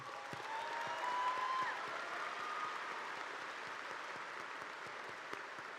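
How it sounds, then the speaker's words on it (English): Graduation crowd at Lafayette High School's Class of 2018 ceremony applauding faculty and staff, a broad steady roar of clapping that holds throughout, moderately loud and even. "Please give them a round of applause."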